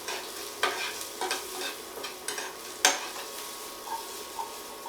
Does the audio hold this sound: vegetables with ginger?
yes